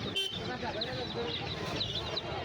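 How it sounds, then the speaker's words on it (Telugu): Chicks and chickens at a busy Sunday market, with faint chirps and clucks scattered through a loud, crowded din of people talking nearby. "కోడి పిల్లలు చాలా క్యూట్గా ఉన్నాయి"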